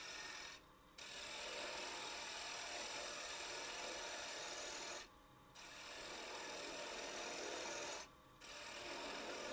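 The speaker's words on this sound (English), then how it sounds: "Now we're going to use that bowl gouge to just bring this down." Holly wood spins on a lathe while a bowl gouge cuts it down, a steady close rasping hiss broken by three brief pauses as the tool lifts off and returns.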